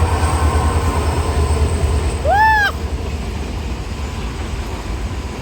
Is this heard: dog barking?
no